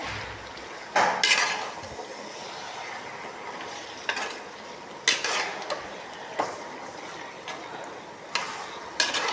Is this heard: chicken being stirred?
yes